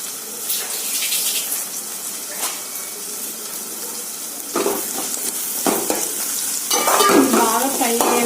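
Ginger garlic paste and cinnamon frying in oil for a Telangana-style chicken curry, giving a steady loud sizzle with scraping stirs of a spoon against the pan throughout.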